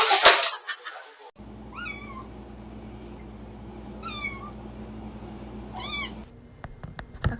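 A cat meows three times, about two seconds apart, each call clear and close against a steady low background hum, with a short burst of noise at the very start.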